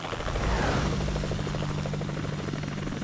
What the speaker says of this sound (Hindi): आपका हेलीकॉप्टर तो उड़ गया